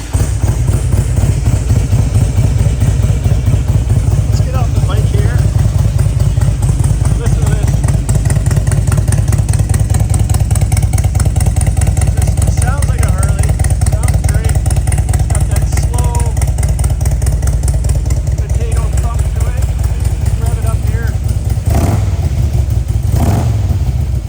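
A 2004 Harley-Davidson Electra Glide FLHTI with Stage 3 engine work and Python pipes starts up and settles into a loud, deep, lumpy idle that rumbles steadily close by, with a few sharper blips near the end.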